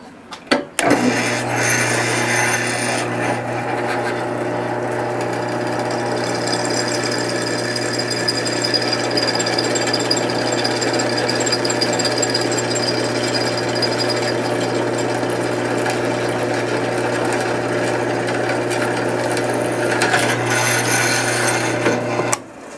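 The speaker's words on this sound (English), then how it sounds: "I'm drilling a slightly larger hole" A power drill bores slightly oversized holes through backing plates, one long, loud, steady whirring and grinding run that starts and stops abruptly, close to the microphone, with no talk.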